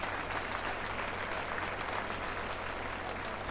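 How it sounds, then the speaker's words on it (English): Crowd applause in the F1 2020 racing game at the British Grand Prix, a dense, steady roar of clapping from a large grandstand crowd over a low engine hum, continuous throughout. "And the crowd are applauding."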